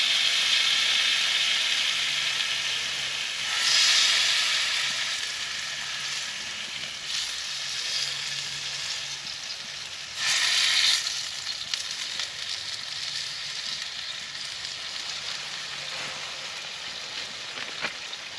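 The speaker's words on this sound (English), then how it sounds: "let's get these steaks on there." Tomahawk steaks sizzle on an ammo box wood stove inside a hot tent, a steady close frying hiss with two louder bursts of spitting.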